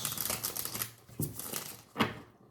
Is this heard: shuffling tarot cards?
yes